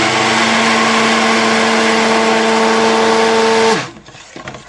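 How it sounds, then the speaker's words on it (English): A blender whirs steadily and loudly through a thick mixture of cocoa butter and palm oil, then winds down and stops near the end, leaving faint rattling. "I don't want to blend it too thick"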